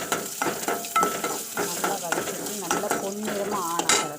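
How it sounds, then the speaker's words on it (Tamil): Green chilies sizzle and crackle in hot oil as they are stirred in a pan, with occasional scraping and clinks throughout. "பச்சை மிளகாவை அதில் போட்டுக்கோங்க அதையும் போட்டு நல்லா வதக்கணும்"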